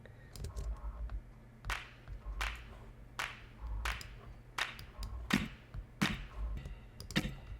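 Sharp, bright handclaps sit in a pop song's arrangement after the second chorus, landing in a steady, evenly spaced rhythm roughly every three-quarters of a second over a soft musical bed.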